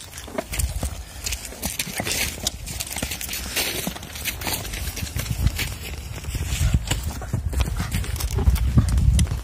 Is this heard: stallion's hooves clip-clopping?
yes